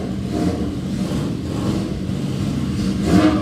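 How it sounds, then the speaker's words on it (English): A custom motorcycle's engine revs steadily nearby at a motorcycle auction, a low rumbling exhaust growl that rises slightly in intensity near the end. "Wait till you hear the exhaust note on this thing."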